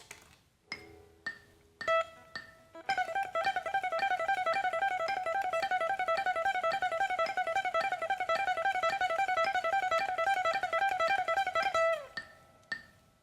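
Rapid, evenly spaced strict alternate-picked guitar notes at 110 BPM run in a steady fast stream for about nine seconds, preceded by a few scattered plucks and ending with a ringing strum.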